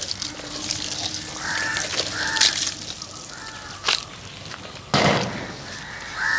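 Several crows caw repeatedly around a home garden in rural Kerala, harsh calls recurring in bursts, with one loud close caw near the end over steady outdoor background.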